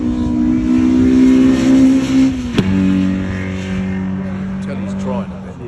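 A BMW E36 engine revs loudly at a drag strip, holding a high pitch then dropping sharply as it shifts, with the tone settling lower and steady afterward.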